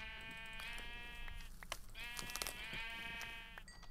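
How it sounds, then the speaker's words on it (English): Sheep in a Minecraft-style modded game bleating twice in long wavering calls, fairly close, over soft background noise and faint clicks. "Ooh, sheep. Two sheep. Three sheep. Four sheep."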